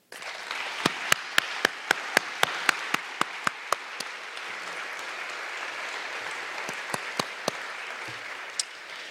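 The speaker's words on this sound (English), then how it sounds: "I think we will have once more applause for them." An audience at a livestock science meeting's welcome ceremony in Tallinn, Estonia, applauds musicians who played bagpipe, overtone flute and guitar. The clapping is steady and fills the room, with a few sharp louder claps standing out near the start and again later.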